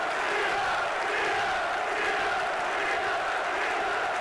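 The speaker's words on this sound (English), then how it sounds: "the roar back from the Blackburn crowd" Football crowd at Blackburn Rovers roaring after a goal against Hull City, a steady, fairly distant stadium roar held evenly throughout.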